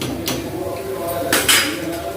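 Cleaned steel dishes and pots are put away in a home kitchen, giving a few bright clinks and clatters at moderate volume, with low room noise underneath.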